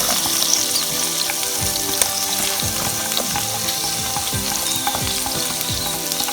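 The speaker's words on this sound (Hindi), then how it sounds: "मटर को हम 2 मिनट के लिए फ्राई करेंगे" Peas and other vegetables frying in a pan over a medium flame, a close continuous sizzle with frequent scraping and clattering strokes as they are stirred, with no voices.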